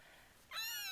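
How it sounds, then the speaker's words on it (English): Three-week-old silver RagaMuffin kittens, with a brief near meow-like call rising out of a soft rumble in the second half, loud and close; the steady purr itself is not clearly set apart. "We have some very loud purr motors"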